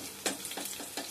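Oil heating in a kadai with cumin and garlic, a faint steady sizzle broken by three or four soft scraping stirs in quick succession, close by and quiet, with no voices.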